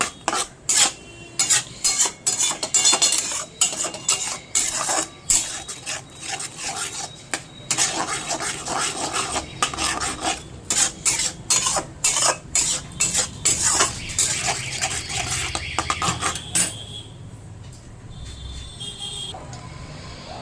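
Spice masala for chicken kosha being stirred and sautéed in a pot, rapid repeated metal scrapes and clanks of a spoon against the pan over a soft sizzle, stopping toward the end.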